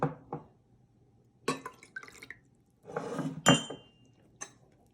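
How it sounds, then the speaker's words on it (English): Water is poured into a small Turkish coffee pot in a few short splashing bursts with light clinks of metal and glass, close and fairly quiet, between pauses. "We add 2 small mugs of water into the coffee pot."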